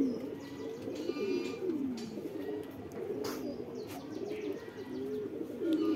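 Local deshi pigeons on a rooftop coo in soft, repeated rolling calls while pecking at scattered paddy, close by against faint background noise.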